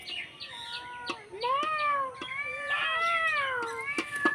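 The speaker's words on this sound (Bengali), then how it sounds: "এই যে দেখেন বিড়াল আইসা বসে রয়েছে মাছ খাওয়ার জন্য" A cat sits waiting for sea fish being cut with a boti blade and lets out several drawn-out, rising and falling meows in a row, close by, with sharp clicks and knocks of the cutting around them.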